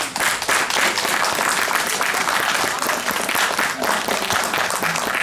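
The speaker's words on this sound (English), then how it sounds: "let's give her a round of applause" Sustained applause from a college event audience, loud dense clapping from many hands filling the room throughout, with no talk over it.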